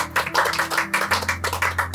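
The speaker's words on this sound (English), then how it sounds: "Let's give claps to the president." An audience at the 2025 BTL Cohort 31 graduation ceremony claps for the president, a dense, lively burst of many hands applauding together, close and steady.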